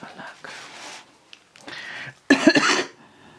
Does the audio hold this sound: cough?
yes